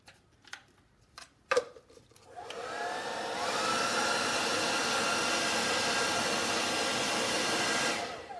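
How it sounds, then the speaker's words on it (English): A few clicks and handling noises, then a hair dryer starts up and blows with a steady, loud whooshing roar close by before cutting off, overheating quickly. "on your hair dryer, it'll overheat, but we can try it"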